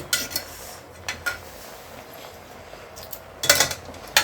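Spinach (palak) stirred and turned in a cooking pan, a few faint scrapes and metallic utensil taps spaced out at close range, with one louder clatter near the end.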